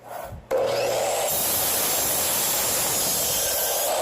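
A power saw cuts a wooden board to length for a backyard DIY build. A loud, steady whirring grind starts abruptly after a brief quiet moment and runs on unbroken.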